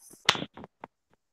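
One sharp, close hand clap snaps out in a quiet room, followed by a few softer short taps and rustles before falling silent.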